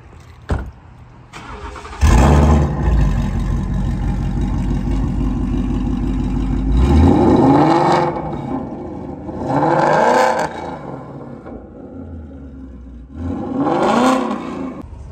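A Mustang with a Corsa Xtreme exhaust and catless long-tube headers starts warm and idles with a deep rumble, then is revved hard three times in loud, throaty bursts, with no talking.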